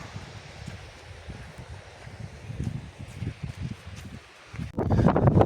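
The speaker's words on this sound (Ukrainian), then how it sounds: "може вітер задуває, бо тут дує таке, що капець" Wind gusts buffet the microphone in a sunflower field with low rumbling bursts, growing stronger and louder toward the end.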